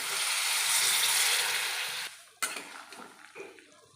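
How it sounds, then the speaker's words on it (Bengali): Water poured into a pan of banana stem and potatoes cooked with spices, a steady bright rush for about two seconds that cuts off, followed by a sharp clank and soft scraping of pan and utensil. "এইবারে থোর আলুটা সেদ্ধ হওয়ার মতন দিয়ে দেবো পরিমাণ মতো জল"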